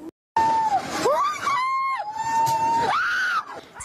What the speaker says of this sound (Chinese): 民众吓得放声尖叫，拔腿狂奔